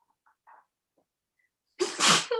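A single loud sneeze bursts out in a quiet courtroom, preceded by a few faint small sounds and then near silence.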